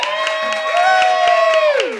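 A studio audience at a comedy radio show cheers and whoops to vote for Kasey as winner of a sing-along game, a sustained rising and falling holler carrying over loud crowd noise for about two seconds.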